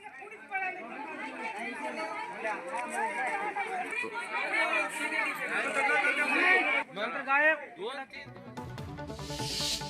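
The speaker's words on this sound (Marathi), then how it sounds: "स्वस्त धान्य येताच दुकानाबाहेर तोबा गर्दी झाली आहे" A crowd gathers outside a ration shop in Degloor, Nanded, with steady overlapping chatter and babble close by that swells and dips, then breaks off near the end.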